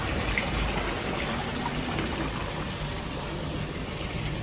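An indoor water fountain in the Taj Bengal hotel in Kolkata flows with a steady, even wash of splashing water that holds constant throughout, with no voices.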